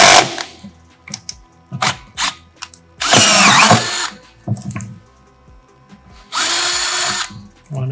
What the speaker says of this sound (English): So we're using an 1/8 inch NPT fitting tap. So that requires a 21/64. That's our final drill bit size that we're gonna use.